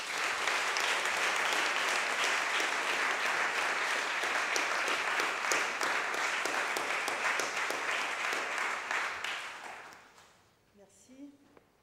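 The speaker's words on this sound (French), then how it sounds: "Mesdames et messieurs, je vous demande d'applaudir Hélène Giacobino." Audience at a French effective altruism launch event applauds the next speaker, with sustained dense clapping that fades out near the end, followed by brief faint sounds.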